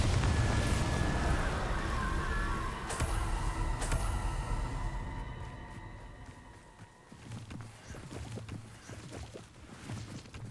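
Bombarda explosion spell in Hogwarts Legacy, heavy rumbling blasts with sharp cracking hits in the first few seconds, then a calmer stretch and a renewed rumbling burst near the end.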